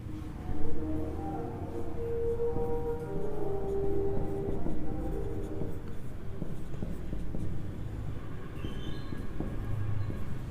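A teacher writes on a classroom board in a series of thin, squeaky strokes with short pauses between them, over a low room rumble.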